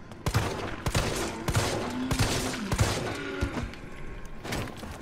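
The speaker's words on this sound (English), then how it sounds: "I shot his arm off" Gunfire in the Resident Evil 3 demo set in Raccoon City, a string of sharp, loud shots spaced irregularly over a low game-ambience rumble, with a few heavier thumps between them.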